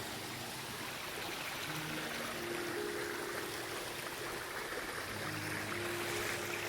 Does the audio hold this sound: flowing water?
yes